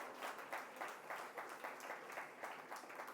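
A church congregation applauding and cheering for God: faint, steady clapping with a regular rhythmic pulse, distant and low in level.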